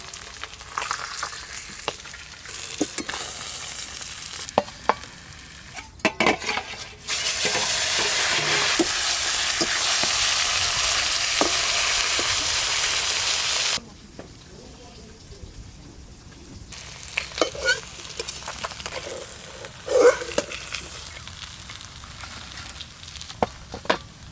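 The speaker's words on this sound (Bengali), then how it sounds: "যা মাছ আছে দুবারে ভাজতে হবে, একবারে হবে না।" Pieces of a large silver carp fry in hot oil, with a steady loud sizzle in the middle stretch and quieter frying and stirring clatter around it.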